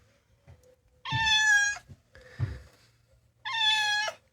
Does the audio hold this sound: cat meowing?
yes